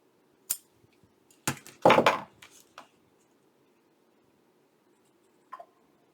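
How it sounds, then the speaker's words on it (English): Scissors snipping paper while making a journal, a few brief close crisp cuts clustered early with one longer rasping cut, then quiet with a faint click near the end. "I just need to cut that off"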